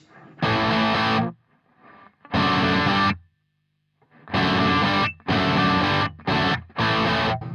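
An electric guitar plays chunky chords through a Garland Tyranos tube amp head with gain at 9 o'clock, lightly overdriven in a crunch, with several loud strummed bursts separated by brief silences.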